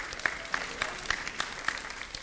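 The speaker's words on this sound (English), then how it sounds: "Can everybody give Sophia a round of applause?" A small congregation at a contemporary church service claps for Sophia, sparse and fairly faint claps with a few distinct sharper hits standing out over the soft patter.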